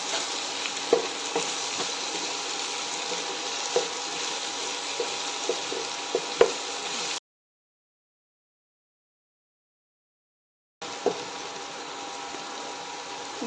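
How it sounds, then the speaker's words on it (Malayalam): Watermelon rind pickle is stirred in a pan, a steady sizzle with faint scrapes and taps of the spoon, then a gap of silence before the frying resumes. "വീണ്ടും നല്ലപോലെ ഇളക്കി കൊടുക്കണം."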